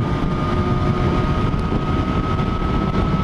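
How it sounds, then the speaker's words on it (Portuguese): Riding a motorcycle on a road near Funchal, with steady engine drone and heavy wind rush buffeting the microphone, continuous and close for the whole stretch. "Hoje é a primeira vez que estou a andar de moto desde que comecei de férias."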